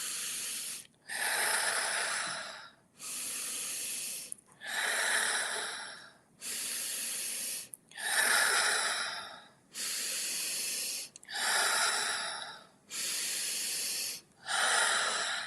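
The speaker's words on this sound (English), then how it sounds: "Breathing in." Deep, slow inhales and exhales during a breathwork exercise, about eight long breaths in a steady rhythm, close and clear with brief pauses between them and no talking.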